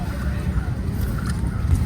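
A decorated boat carries passengers across open water, with a low, continuous rumble of water and motion blended with gusty wind buffeting close to the microphone.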